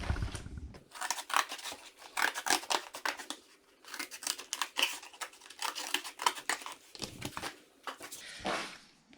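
Scissors cutting a paper triangle for a sock puppet beak, with a rapid series of close, crisp snips and paper rustles in bursts, loud and alone without talk.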